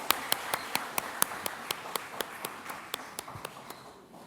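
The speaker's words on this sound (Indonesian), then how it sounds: "Kita sambut anak-anak kita dengan tepuk tangan sekali lagi." Church congregation clapping in unison during a Sunday service, faint evenly spaced claps in a steady rhythm, about twenty in a row, fairly distant and alone.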